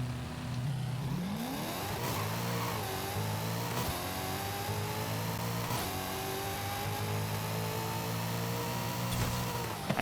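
A Pontiac Firebird Trans Am in Forza Horizon 5 launching on a quarter-mile drag run: a loud engine rev climbs hard, then pulls through several upshifts, each marked by a brief drop in pitch before the engine climbs again.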